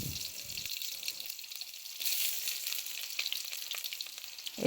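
Chopped onions hit hot oil in a pan for an Assamese eggplant and tomato fry, giving a steady, bright sizzle with soft stirring taps and no talk.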